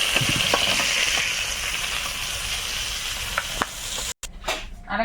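Oil sizzles and crackles steadily as fish fries in a wok, with a few sharp scrapes and clicks, then a brief dropout near the end.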